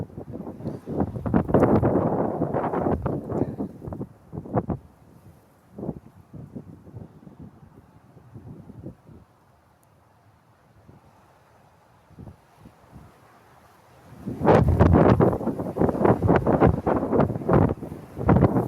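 Wind gusts across a microphone outdoors in nature, buffeting in strong bursts at the start and end with a calmer, quieter stretch in between.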